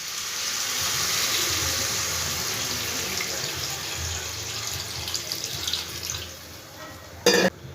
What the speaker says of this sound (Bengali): এই পর্যায়ে আমি পরিমাণ মতন জল দিয়ে দিচ্ছি।